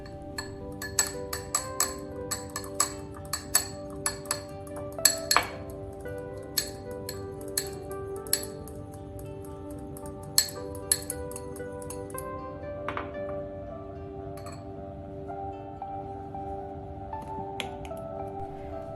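A utensil repeatedly clinks and taps against a glass bowl while breakfast ingredients are mixed. The sharp, bright ticks come in an irregular rhythm, close up, busiest early on and thinning out later.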